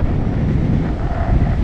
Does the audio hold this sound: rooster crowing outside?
no